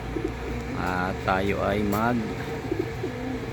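Pet pigeons coo in a loft, repeated soft throaty warbles close by, mixed with a person talking.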